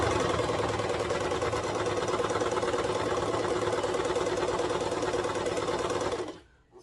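Sewing machine running a side seam on a slippery toddler swimsuit, a close, steady rapid needle chatter and motor hum for about six seconds before stopping abruptly, with no speech.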